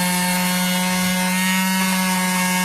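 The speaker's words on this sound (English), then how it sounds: "So get yourself one of these orbital sanders and just go around it" Orbital sander scrubbing rust off the old brake parts of a 25-year-old BMW E34 520i, a loud steady buzzing grind with a strong motor hum, running close and continuously with no talk.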